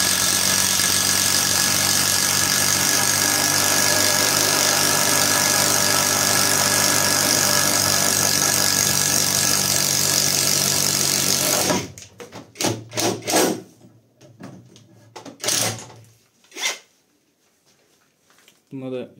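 Catpower 4226 cordless impact tool boring a hole, with a loud continuous whirring buzz for about twelve seconds that then stops abruptly, followed by brief bursts and clatter with talk.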